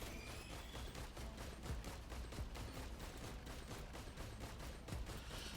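Rapid bursts of turret gunfire crackle in steady succession throughout the Risk of Rain 2 video game scene, loud and continuous with no speech.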